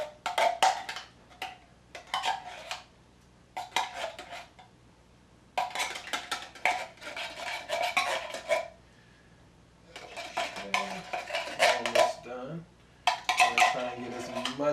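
A spoon scrapes and clinks against a can and a dish as canned cream of celery soup is scooped into a casserole, in repeated short bursts of clattering separated by brief quiet pauses.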